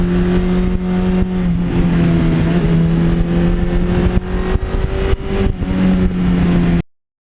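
A 1982 Suzuki GS1100E motorcycle is ridden with a steady, loud engine drone holding a fairly even pitch, rising and easing slightly as the throttle shifts, with wind rush over it, then cutting out abruptly at the end.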